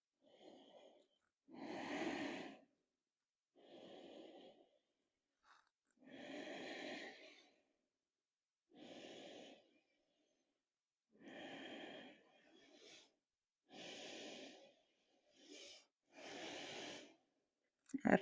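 Slow, deliberate breaths during a yoga seated forward bend alternate between airy inhales and exhales, each lasting about a second, close-miked and soft in otherwise quiet surroundings.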